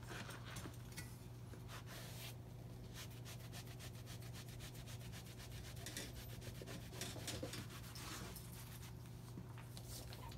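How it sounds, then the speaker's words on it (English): Rag wiping excess off a tractor-style motorcycle seat during reupholstery, a continuous close rubbing and scrubbing sound with quick repeated strokes throughout, faint and without talking. "grab a rag and wipe the excess off"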